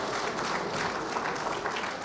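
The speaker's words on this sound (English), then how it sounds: "Please, a round of applause once again for the Honorable Minister of Environment." Audience applause for the Minister of Environment at a ministerial press briefing in Abuja: a dense, steady wash of clapping that holds evenly throughout, fairly distant and diffuse.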